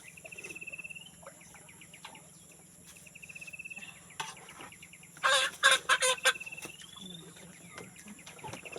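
Chickens clucking in a yard, repeated short calls over a steady insect and electrical hum, with a burst of louder, sharper clucks and flutters midway, moderately close, with faint voices nearby.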